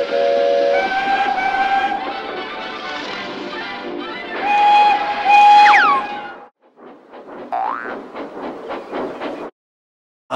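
A train pulling in on the New York Railroad blows its steam whistle in loud, sustained blasts up close, with rumbling and hissing underneath, briefly dropping away before a shorter whistle and more rolling noise.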